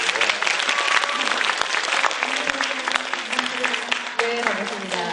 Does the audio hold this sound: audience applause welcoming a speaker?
yes